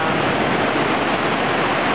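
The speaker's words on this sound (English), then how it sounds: "But the ocean's here and will always be here." Ocean waves along the Galveston seawall in Texas make a steady, loud, broadband rush of surf with no clear breaks.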